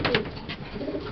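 Pigeons coo softly in a loft, a few low rolling calls close by with no talk over them.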